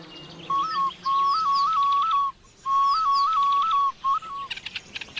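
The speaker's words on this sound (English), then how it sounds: "people can actually call up a honey guide by using a snail shell whistle." A clear, shrill snail shell whistle blown in two long phrases of warbling notes with a short gap between, used to call a honeyguide bird, while small birds chirp faintly in the background.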